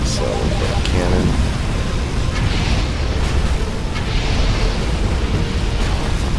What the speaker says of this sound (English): So, we've got a cannon.